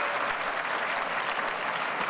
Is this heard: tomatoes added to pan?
no